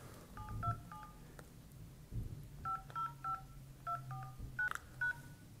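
Touch-tone keypad dialing a phone number on an iPhone: about a dozen short two-tone beeps in quick bursts, near and clear over a faint low background rumble.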